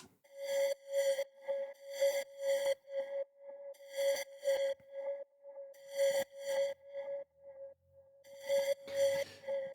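A bright, pulsing synth layer with reverb, phaser and sidechain compression sits on a steady pitch, throbbing in rhythmic bursts with a washy, spacious tail and shimmering high overtones.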